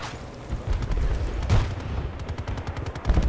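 Gunfire rattles through a Battlefield: Bad Company 2 firefight, a dense continuous stream of shots and booming blasts with no pauses, loud and close throughout.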